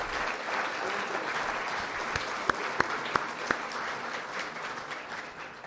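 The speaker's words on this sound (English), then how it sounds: "please give a round of applause for all the students and teachers I just named" Audience at a community progress dinner applauding students and teachers: a broad, even wash of many hands clapping, with a few louder nearby claps popping out midway, continuing steadily.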